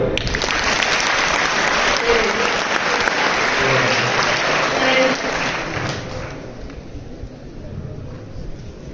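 Loud, dense audience applause, sustained and close, tapering slightly toward the end.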